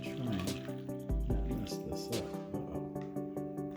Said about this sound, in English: here's 1 cup of boiling water